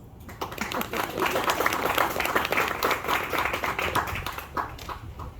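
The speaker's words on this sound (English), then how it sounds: "Applause." Applause from an audience at a book promotion in Aruba, a dense sustained patter of many hands clapping that fades slightly toward the end, with faint voices mixed in.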